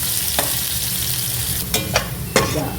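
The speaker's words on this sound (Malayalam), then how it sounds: "ഗോൾഡൻ ബ്രൗൺ കളർ വരുന്നിടം വരെ ഇത് ഫ്രൈ ചെയ്ത് നമുക്കെടുത്ത് മാറ്റാം" Sliced small onions fry in ghee with a steady, loud sizzle, and a few clinks of a stirring utensil against the pan break in.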